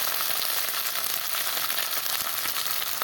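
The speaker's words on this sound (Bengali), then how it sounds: "ভেজে রাখা আলুগুলো দিয়ে দিচ্ছি আলুটা দিয়ে ভালো করে কষিয়ে নেব" Fried potatoes sautéing in a spice masala, a continuous even sizzle and hiss, close and unbroken for a few seconds.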